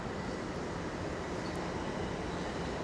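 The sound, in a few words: subway train arriving at station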